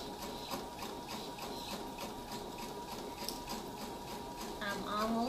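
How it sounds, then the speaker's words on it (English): A sewing machine stitches Ankara fabric for a bow tie, its needle running in a fast, even mechanical patter close by, quiet and unbroken through the whole clip. "lower the footer, and continue stitching."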